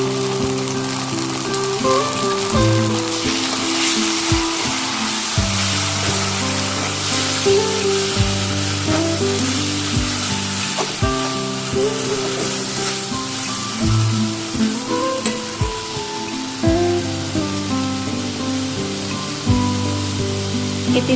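Spice paste hitting hot mustard oil already used for frying fish, along with fried onions, sizzling loudly and steadily throughout with a dense crackling hiss, while a rhythmic melodic tune plays in the background.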